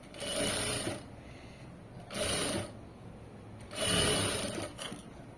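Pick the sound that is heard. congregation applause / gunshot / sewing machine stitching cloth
sewing machine stitching cloth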